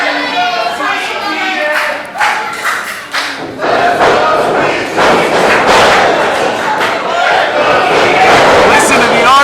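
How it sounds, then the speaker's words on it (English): A loud wrestling crowd roars and cheers throughout a live independent wrestling show, with dense continuous crowd noise, thuds and shouts that rise and stay strong to the end. "Listen to the army cheering for Sweet Cheeks."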